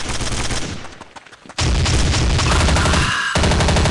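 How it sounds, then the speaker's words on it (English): Gunfire rings out in a Counter-Strike: Condition Zero bomb defusal match on the de_nuke map, a shotgun blasting in loud, dense bursts that fade briefly and then return even harder, with no voices over them. "Oh, that was only a shotgun. I thought it was a carbine."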